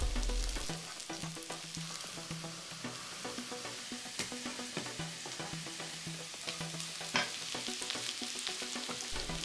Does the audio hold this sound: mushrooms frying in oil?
yes